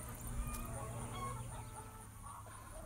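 Chickens on a farm with 4,000 laying hens cluck softly at a distance under a steady background hum, faint scattered calls throughout.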